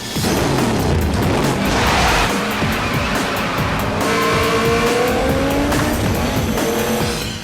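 A 900-horsepower Detroit muscle car engine roars loud and close while its tires squeal and skid throughout, with the pitch climbing as it revs.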